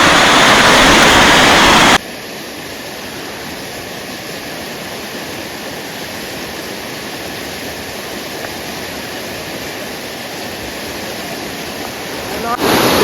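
Loud, steady roar of rushing floodwater after heavy monsoon rain, heard from a bridge, fills the whole span, a dense broadband wash with no pauses, as if standing right beside a fast flood.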